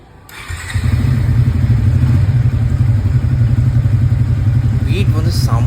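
A newly delivered Triumph T4 motorcycle engine starts up close by and settles into a steady, smooth idle thump that holds for several seconds.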